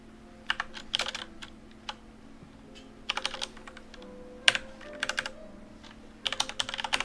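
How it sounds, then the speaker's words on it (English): Bursts of typing on a computer keyboard as Python loop code is entered, quick clusters of close, crisp key clicks separated by short pauses over a faint steady hum. "So let's type up the code."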